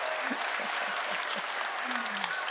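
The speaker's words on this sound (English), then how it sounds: "Give him a round of applause, everybody" A crowd at an outdoor political rally in Surrey applauds steadily, a dense wash of clapping with a few voices talking underneath.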